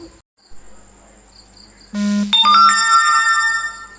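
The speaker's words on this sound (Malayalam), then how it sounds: "ഫോണിൻ്റെ നോട്ടിഫിക്കേഷനും" A mobile phone's notification chime rings out clearly in a home kitchen during cauliflower frying, a short sequence of bright electronic tones after a quiet moment.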